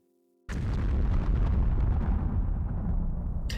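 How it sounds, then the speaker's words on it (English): A loud explosion sound effect from the visual novel game Higurashi When They Cry bursts in abruptly after a short quiet start, then rolls on as a sustained, dense rumbling roar that fades slightly toward the end. "I love the explosion sound"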